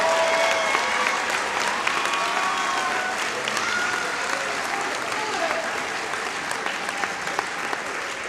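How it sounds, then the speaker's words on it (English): Sustained applause from a large crowd at a college commencement ceremony, a dense, steady clapping roar that carries on for several seconds with scattered sharper claps and faint voices beneath. "as we applaud your astounding efforts."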